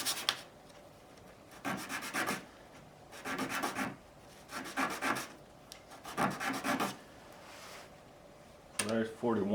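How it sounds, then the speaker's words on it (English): Oak boards for a dining table are sanded by hand in four steady back-and-forth bursts of rough rubbing, each lasting about a second with short pauses between, close and fairly loud, and a brief voice comes in at the end. "I need to sand them on each side"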